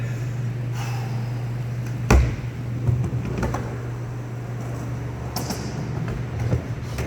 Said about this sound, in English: And riding down the ramp